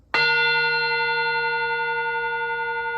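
A metal singing bowl struck once and left to ring, its steady bell-like tone holding strong and even with a slow gentle waver across three seconds, close and clear with no voices.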